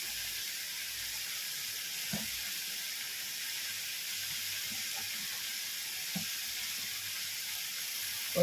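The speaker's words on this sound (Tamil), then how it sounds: "ஒரு கட்டு கீரையை போட்டோம்." Spinach frying with prawns in a hot pan gives a steady, soft sizzle and hiss throughout, with a few faint clinks or pops scattered over it and no voices.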